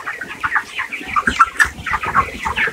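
Broiler chickens on a poultry farm cluck and squawk in a busy, close flock, overlapping calls bursting out in quick irregular succession with a low shuffling rustle underneath.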